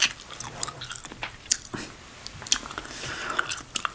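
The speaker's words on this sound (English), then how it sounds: "gum chewing on the sounds real quick" Gum is chewed close to the microphone in wet, smacking clicks and crunches at an irregular rhythm, with soft whisper-level breaths between them and no clear words.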